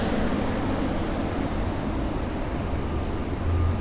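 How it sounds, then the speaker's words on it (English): Steady rain falling over downtown Los Angeles as Tropical Storm Hilary arrives, a continuous even hiss of drops on streets and surfaces, fairly loud and unbroken, with no voices. "And we're getting some rain in downtown LA."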